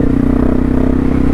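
A Honda XR650L motorcycle engine idles steadily just after a cold start in 25-degree weather. It gives a loud, close, even single-cylinder thump with a strong low hum and no talk.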